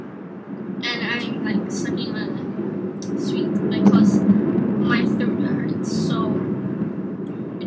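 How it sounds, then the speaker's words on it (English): An airplane drones overhead as a steady low rumble lasting throughout, partly masked by whispered talking close to the microphone. "Freaking airplane, can you just go away?"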